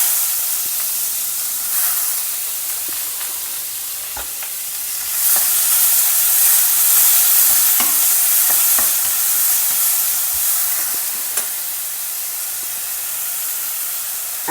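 Green chilies, onion and grated ginger sizzle in hot oil in a pan with mustard seeds and urad dal, a steady close frying hiss that swells louder midway, with occasional stirring clicks and no talking.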